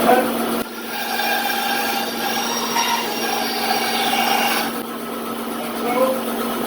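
Wood being cut with a saw on a shop-built multi-tool cart while a fan runs, giving a steady rasping drone with a constant hum underneath for several seconds, then tapering off.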